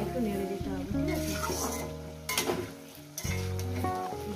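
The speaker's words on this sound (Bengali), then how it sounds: "এইভাবে বন্ধুরা ঢাকনা খুলে একটু নেড়ে দিতে হবে, ঠিক আছে।" Bottle gourd and potato poppy-seed curry is stirred in a pan with the lid off, a steady sizzle and frying hiss carrying soft utensil scrapes, with a voice talking over much of it.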